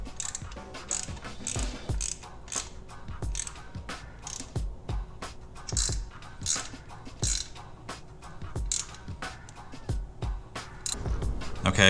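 A hand ratchet clicks steadily while tightening bolts on the engine guard of a Harley-Davidson Low Rider FXLR, a close, repeated pawl ticking in quick strokes with brief pauses between them.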